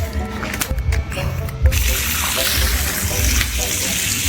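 Water rushes and splashes steadily at close range, a loud continuous flow with gurgling underneath.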